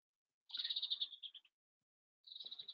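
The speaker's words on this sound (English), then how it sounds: "Hear the birds." Outdoors, a bird gives a quick run of high, rapid chirping notes that trails off, then after a pause starts another trill, faint and somewhat distant over silence.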